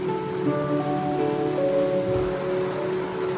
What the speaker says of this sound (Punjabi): 16 17 ਘੰਟੇ ਹੋ ਗਏ ਬਈ ਮੀਂਹ ਆਈ ਜਾਂਦੇ ਨੂੰ ਲਗਾਤਾਰ